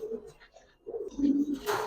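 Giribaz and racer pigeons coo at a seller's stall, a few soft low throaty coos close by amid quiet background.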